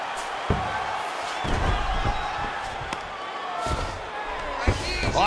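Strikes land in the EA Sports UFC 5 video game as a series of sharp, irregular thumps over a constant crowd roar, with commentators talking throughout.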